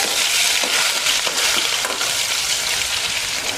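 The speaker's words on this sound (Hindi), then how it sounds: "जो हमने अदरक लहसुन का पेस्ट बनाया था इसे भी हम इसी में डाल देते हैं और पकाना है इसे ब्राउन होने तक।" A steady, loud sizzle of ginger garlic paste frying in a hot pan until brown, with faint stirring scrapes, continuous and close with no voices.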